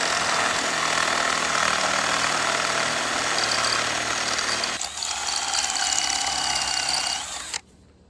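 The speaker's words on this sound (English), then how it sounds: "take a 1/2-inch bit, masonry bit, drill it down into there" A power drill with a 1/2-inch masonry bit bores into concrete, making a loud, continuous grinding whir that changes pitch partway through and then stops sharply near the end, with no voices.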